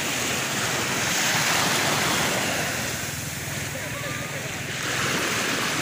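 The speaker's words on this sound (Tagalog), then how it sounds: "Medyo mahina lang ang mga alon." Sea waves wash and roar continuously nearby, mixed with wind buffeting the microphone and faint voices.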